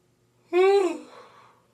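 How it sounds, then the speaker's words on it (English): One big, close yawn, voiced and rising before it sinks into a long breathy exhale that fades out, in a quiet room. "That was a big yawn."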